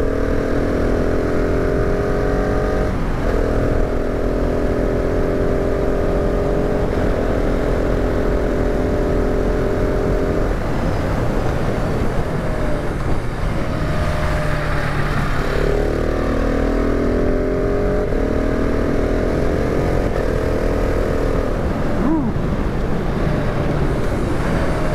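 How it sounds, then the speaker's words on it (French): A 2019 KTM 690 SMC R single-cylinder supermoto engine revs at moderate, not-high rpm, rising and falling in several pulls over a steady idle, close and loud, with no talk over it. "Alors je gaze pas à fond, hein, je fais pas vraiment très haut dans les tours"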